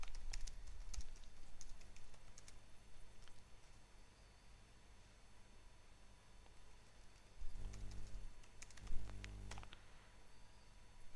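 Computer keyboard keys clatter in quiet, irregular bursts of typing while commands are entered, with scattered clicks and a few louder presses near the end.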